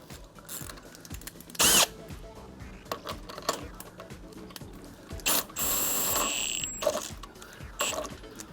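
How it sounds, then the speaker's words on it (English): A handheld power drill used on a Lightning Lift whirs in short loud bursts, then runs for a longer sustained stretch, close to the microphone, among clicks and handling clatter. "we want to take our drill"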